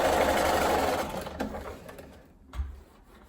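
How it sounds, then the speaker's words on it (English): Sewing machine joining quilt block rows together for a chain quilt block, a close whirring run that holds steady for about a second, then slows and stops with a few faint taps. "go ahead and sew all of those rows together"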